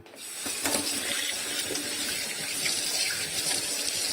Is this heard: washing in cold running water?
yes